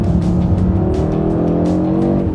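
An Audi RS3 compact driven hard through a corner, its engine loud and close with a sustained, slightly rising growl and a faint tyre hiss, no voices.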